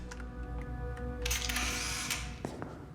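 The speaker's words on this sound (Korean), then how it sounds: "그때 셔터 소리로 노출된" A camera shutter fires in a tense crime-drama scene set among Tokyo yakuza, giving a few sharp mechanical clicks and a brief whirring burst over a quiet, sustained musical background.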